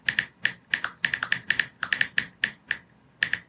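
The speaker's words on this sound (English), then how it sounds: "Some ASMR typing right here." Someone types on a computer keyboard in an irregular run of sharp, close clicks and taps, some in quick pairs, with short pauses between the bursts and no talking.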